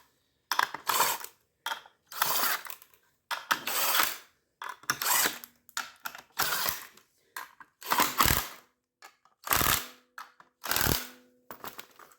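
A bolt is slowly driven in by hand a little at a time during a motorcycle clutch adjustment, producing repeated short bursts of metallic ratcheting clicks separated by brief pauses, close and fairly quiet.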